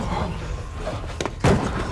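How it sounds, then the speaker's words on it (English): A door in the Twin Towers takes a hard bang after a couple of lighter knocks, one loud, close thud that rises above a low background murmur. "And I hear the pounding"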